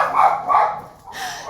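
Dogs barking at vultures circling over a backyard pool, a few short, fairly loud barks in quick succession with a brief lull before more yelping.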